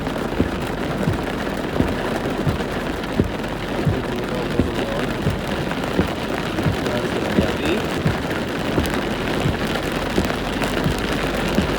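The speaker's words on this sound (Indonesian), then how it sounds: "Bisa dilihat hujannya sangat deras." Heavy rain in Surabaya, a loud, dense, continuous downpour pattering hard on surfaces, with sharp scattered drop hits throughout and no pause.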